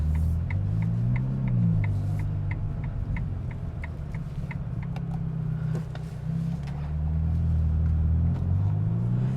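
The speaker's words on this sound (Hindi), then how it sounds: "सो गाड़ी को ड्राइव पे डालने के लिए आराम से इसे दबा के एंड बूम वाला।" Ferrari Roma sports car idling then pulling away at low speed, its engine a deep, steady rumble heard from inside, with a regular ticking like an indicator running over it.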